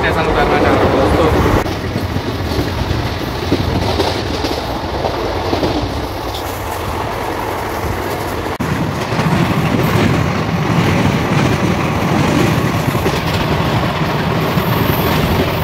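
The Sarnath Express passenger train rolls along the rails with a loud, steady rumble and a faint rhythmic clatter of wheels. The noise stays dense and continuous from start to finish.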